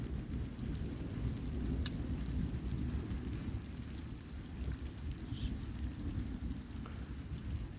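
Rain pours steadily during a thunderstorm, a dense hiss of falling water with low rumbling thunder running underneath the whole time, no voices.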